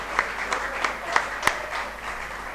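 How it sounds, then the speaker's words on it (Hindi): Scattered, fairly soft claps from an audience at a monthly Hindi poetry gathering held in a hall, a few sharp individual claps standing out over a murmuring room with voices. "बस तालियां बजाओ इन लोगों के लिए"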